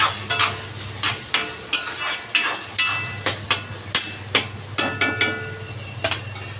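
Tomatoes and tamarind sauté in a pan for a Tamil kuzhambu, with a spoon scraping and tapping against the pan in a steady rhythm roughly twice a second over a low hum and faint sizzle.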